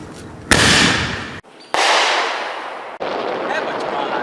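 Explosion sound effect: three sharp, loud blasts, each followed by a long rumbling roar that fades and is cut off by the next blast.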